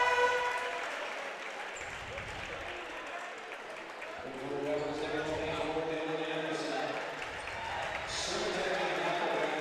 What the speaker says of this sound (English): a nice round of applause for Landon Johnson from the DGF fans